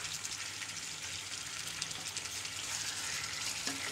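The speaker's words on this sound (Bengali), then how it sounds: "প্রথমে আমি এখানে পেঁয়াজ দিয়ে দিচ্ছি, তারপরে আমি চিকেনগুলো দিয়ে দেব, যেটা আমি একটু লবণ দিয়েছি, লবণ দিয়ে ম্যারিনেট করে চিকেনটা আমি ভেজে নেব" Chicken and onions frying together in a pan for Bangladeshi-style chicken biryani, giving a steady, close, even sizzle with faint crackles and no talking.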